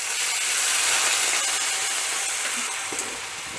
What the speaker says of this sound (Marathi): त्याच्यात आता आपण आपलं हे दीड वाटी आपण पाणी उकळलं होतं ते आपण ह्याच्यामध्ये घालूयात.